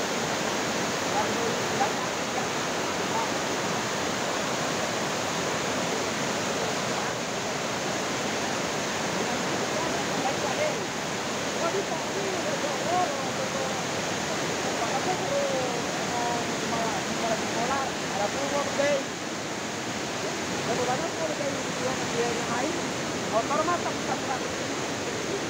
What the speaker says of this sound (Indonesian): Derasnya air dari perbukitan hingga membuat air sungai meluap dan menerjang rumah warga.